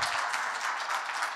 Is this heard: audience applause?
yes